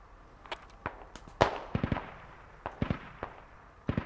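Scattered gunshots in the combat shooter Squad, a dozen or so sharp cracks at irregular intervals, some near and loud, others more distant, with no talking.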